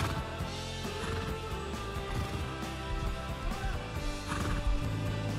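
A horse neighs and whinnies in the survival video game Rust, loud and close over a busy backdrop of other in-game sounds, with no talking.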